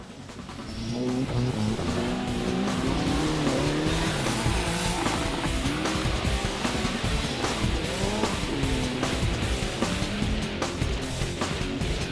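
Off-road racing cars in a Malaysian off-road charity challenge, from standard to buggy class, drive hard with steady loud engine roar, shifting revs and tyre scrabble throughout, no speech.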